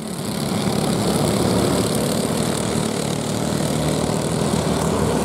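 Junior race cars at a circuit heat drive past warming their tyres, a loud continuous engine drone that holds steady and close throughout.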